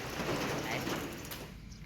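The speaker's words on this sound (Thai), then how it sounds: "ฝนตก ฝนตกจัง" Heavy rain pours down in a steady, loud hiss, with a low rumble underneath, easing slightly toward the end.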